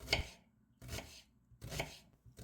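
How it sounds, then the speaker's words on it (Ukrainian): A whole onion being finely chopped with a knife on a board, three or four distinct, fairly quiet cuts spaced evenly with short silences between, close by and with no voices. "Для начинки одну ріпчасту цибулю дрібненько нарізаємо"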